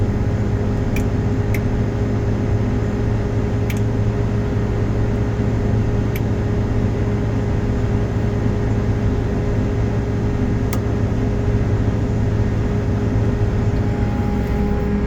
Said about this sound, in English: Once that rotor slows down, it's going to disengage, and you will see a small N there.